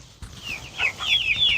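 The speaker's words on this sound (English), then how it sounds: "chasing chickens is what we do down here" Chickens clucking close by, a few short rising squawks and cackles arriving in quick bursts after a soft thump, with no talk.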